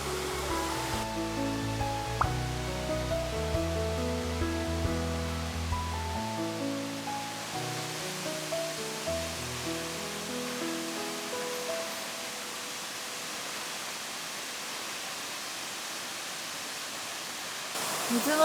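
Nachi waterfall at Kumano Nachi Taisha sends a steady, broad rush of falling water, constant and moderately loud, while people talk over it.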